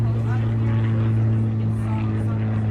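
A propeller airplane engine drones steadily with a loud, low, tonal hum and buzzing overtones, continuous and fairly close for the whole stretch.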